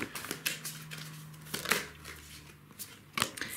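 Tarot cards are shuffled in quick riffling bursts, close and crisp, with brief pauses between flurries and a faint low hum underneath.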